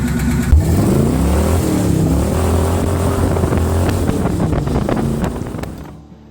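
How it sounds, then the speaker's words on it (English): A boat engine, running rough, is started and revved: a close motor rising and falling in pitch under gusty wind noise, fading out near the end. "Not really liking the way the engine's sounding right now, but we'll go see if we can wake her up."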